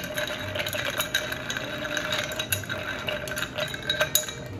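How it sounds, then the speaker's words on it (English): Ice cubes stirred in a glass cocktail mixing glass to chill it before making a martini produce a steady, close run of light clinks and rattles throughout, with no talking. "Stir the ice to make the mixing glass cold."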